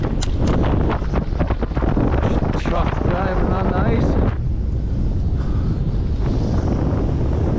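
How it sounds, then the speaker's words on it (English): Freezing wind gusting across an island outdoors, with heavy buffeting rumble on the microphone throughout, loud and continuous, while a person talks over it. "Oh, it is breezy."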